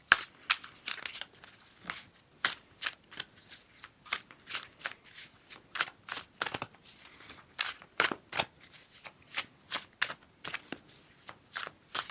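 Tarot cards are riffled and shuffled in a quick, uneven series of crisp papery bursts close by, some twenty flicks in a row, with no talking.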